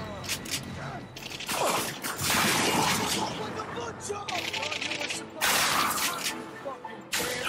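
Rapid bursts of video game gunfire from The Darkness II crackle in clustered volleys with brief gaps, loud and close, with a voice talking faintly between the shots.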